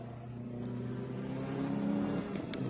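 A Honda rally car's engine revs upward on a tarmac stage, the pitch climbing and holding, moderately distant and fairly quiet, with no voices.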